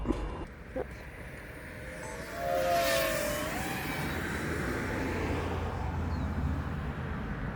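An FPV drone sweeps past at about 62 mph with a fast buzzing whine, a brief rising and falling pitch, moderately loud against steady outdoor background noise.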